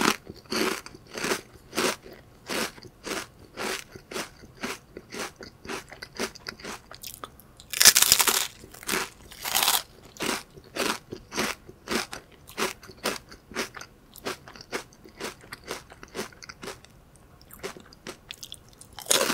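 Crispy Goheung yuzu sand wafer snacks with sweet cream, bitten and chewed up close, giving a long series of sharp, brittle crunches and crackles with brief pauses and no talking.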